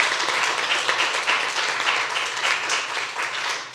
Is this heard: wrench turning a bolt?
no